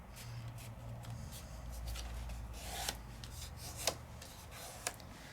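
Paper being scored and creased by hand for a craft box, a soft continuous rasping rub with a few sharper crackles as the fold starts to crack, close and fairly quiet.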